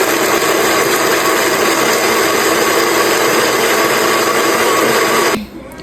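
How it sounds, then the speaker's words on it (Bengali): An electric mixer grinder blends onion, tomato and garlic in a loud, steady whirring roar that runs continuously, then cuts off abruptly just before the end. "তো এখন এটাকে মিক্সি করব, মানে ব্লেন্ড করব আর কি"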